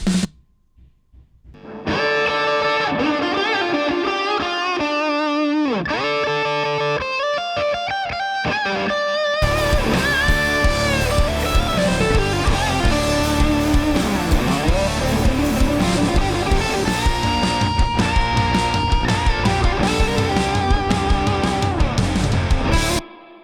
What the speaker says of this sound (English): I think this is a prime candidate for some spring reverb.